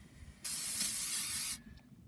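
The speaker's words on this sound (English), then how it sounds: "spray it out" Brake cleaner sprayed onto the foam air filter of an RV generator, one steady hissing burst of about a second, close and loud, between quiet pauses.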